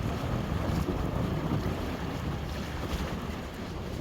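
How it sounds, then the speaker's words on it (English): Steady, loud wind buffets a shanty boat on open water on a cold November day, a continuous roaring rush with no voices. "It's getting kind of windy"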